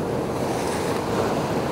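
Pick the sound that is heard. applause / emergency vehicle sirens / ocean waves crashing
ocean waves crashing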